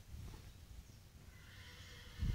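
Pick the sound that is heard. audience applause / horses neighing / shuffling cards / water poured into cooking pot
horses neighing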